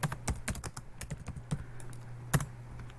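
Short burst of typing on a computer keyboard, a dozen or so close crisp key clicks in an uneven rhythm, no talking.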